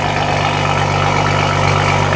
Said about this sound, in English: So stock exhaust, we just installed the downpipe.